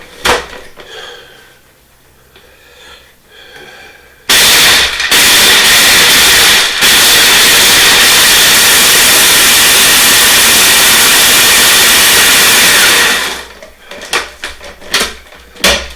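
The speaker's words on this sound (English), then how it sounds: "Get out the trusty food processor." A food processor grinds bread into breadcrumbs, roaring loud and steady for about nine seconds after quieter kitchen handling, then cutting off to a few knocks and clatters.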